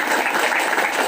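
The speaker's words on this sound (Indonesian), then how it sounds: "Berikan tepuk tangan dulu." A brief burst of applause at a revival meeting, a dense wash of clapping hands from a crowd, loud and continuous.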